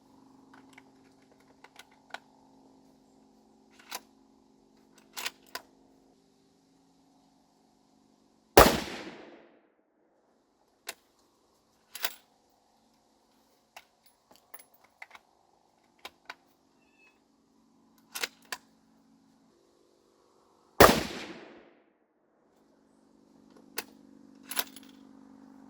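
Remington 783 rifle in .223 Remington fired at a range while sighting in: two loud, sharp shots about twelve seconds apart, each with a short ringing decay, separated by faint clicks and handling noises.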